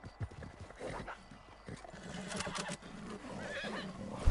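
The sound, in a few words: horse neighing in a video game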